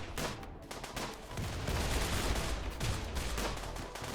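Automated turrets in the game Rimworld rattle off rapid bursts of gunfire at raiders and a muffalo, a dense, fairly quiet barrage of overlapping shots with no talking.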